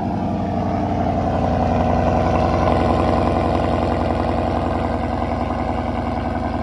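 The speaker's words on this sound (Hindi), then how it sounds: "एक बार ना मैं आपको ना एग्जॉस्ट की साउंड सुनाता हूँ" Ford Mustang GT 5.0 V8 with an aftermarket exhaust, idling close by with a deep, steady rumble and a slight swell in revs, heard alone without talk.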